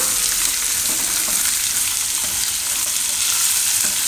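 Vegetables and peas frying in a pan for curd upma give a steady, close sizzle that holds evenly throughout with no one talking.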